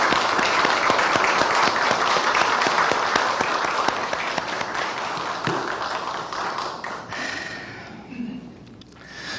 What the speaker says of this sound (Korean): 우리 다시 한번 우리 박수로 격려하겠습니다